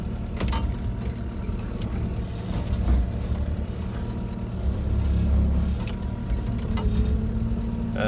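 A small mini excavator working during land clearing, its engine a steady low drone close by, with faint clanks and shifts of load as it works.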